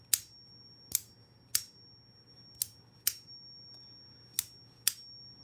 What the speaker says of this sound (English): So you have a mix of a click and a tuning fork. So it is a very loud ping